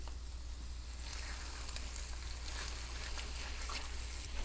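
Pinto beans sizzle and fry steadily in a hot pan, a continuous crackling hiss with small pops throughout, close and fairly loud with no voices.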